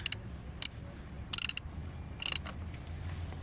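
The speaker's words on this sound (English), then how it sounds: "Now just take your 13mm socket, run these back in." Ratchet with a 13mm socket snugging battery bolts on a Jeep Grand Cherokee, heard as a few short bursts of quick metallic clicking separated by pauses, fairly quiet and close.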